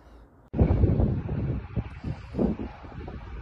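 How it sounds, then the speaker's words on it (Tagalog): Strong wind in southern Alberta, Canada roars into a microphone after a brief quiet start, gusting and buffeting unevenly for a few seconds. "Malakas ang hangin kasi dito."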